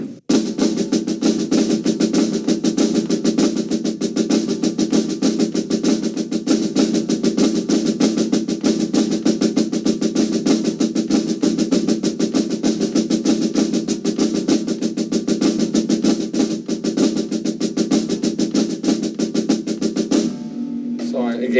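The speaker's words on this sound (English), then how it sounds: "I'm gonna flam all of the notes of the melody, and it's gonna sound like this" A drummer plays a melody with a flam on every note, in a steady, dense stream of strokes that runs at even loudness for about twenty seconds and then stops abruptly.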